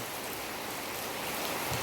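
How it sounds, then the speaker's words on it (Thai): Steady rain falls through a rainy-season morning at a rural garden home in Phatthalung, Thailand, a dense, even hiss of drops on surfaces that continues throughout with no other sounds. "ฝนเยอะๆนะครับ ชื้นๆแทบจะทุกวันนะครับตอนนี้"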